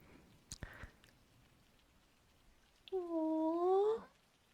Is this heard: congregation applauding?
no